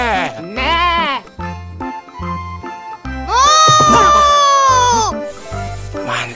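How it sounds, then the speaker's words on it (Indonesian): Sheep bleating in a dinosaur-park video game, repeated loud wavering bleats, one long and drawn out, over rhythmic low game music pulses. "ada domba teman-teman"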